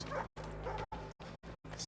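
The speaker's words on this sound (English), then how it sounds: "So many dogs." Several dogs in Assassin's Creed III bark and yip in five short, loud bursts separated by brief silences.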